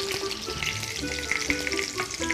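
Food frying in a pan, likely the side vegetables, with a steady, dense sizzle and crackle throughout, close and continuous, with faint stirring noises and no talk.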